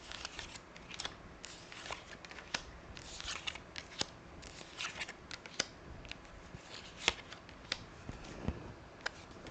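Tarot of the Abyss cards are handled and set down in soft, close clicks and shuffling taps, quiet and irregular with no talking.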